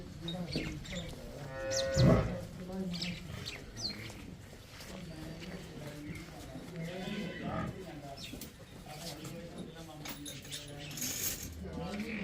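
On a dairy farm with buffaloes and cows for sale, a loud moo rises at about two seconds and a fainter bellow follows later, under ongoing nearby talk and general barn noise.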